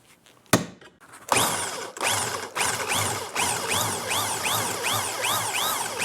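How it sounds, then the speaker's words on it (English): A drill spinning a wire wheel strips old coating off a 1978 Corvette Silver Anniversary control arm. The sharp start is followed by steady, loud, close grinding and scraping that rises and falls in repeated strokes, with no talking. "Nothing like a regular old drill with a wire on it"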